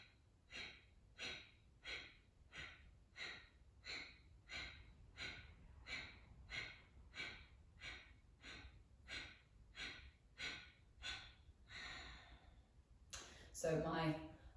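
Kapalabhati yoga breathing: a steady series of about fifteen sharp, forceful nasal exhalations, evenly spaced and close, each a short puffing burst, followed by a softer trailing breath and a brief louder rustle at the end.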